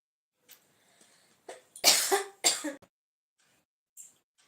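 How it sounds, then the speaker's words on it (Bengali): A few close, sharp coughs in a quiet room, bunched together with brief pauses between them. "ঠান্ডা গরমে ভালোই কাশি করেছে"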